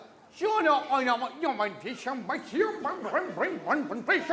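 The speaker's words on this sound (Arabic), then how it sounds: "مش ده الكلب بتاع توم وجيري؟" The cartoon dog from Tom and Jerry, seen on the MBC 3 channel, gives a rapid run of yappy, bouncing barks and whimpers that carry on steadily from start to finish.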